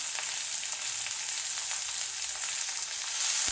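Chili, shallots and curry leaves frying in a pan for a Kerala-style roasted-coconut chicken curry, a steady close hiss and sizzle of hot oil throughout with light stirring.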